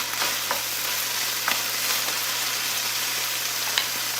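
Garlic fries in a pan with a loud, steady sizzle and crackle, broken by a few faint stirring taps.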